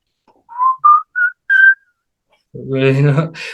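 A short whistled melody of four clear notes from a song, followed by a burst of music with a sung or instrumental line.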